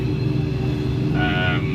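A digger's diesel engine running at a steady low idle, close and rumbling, with a brief higher tonal whine toward the end.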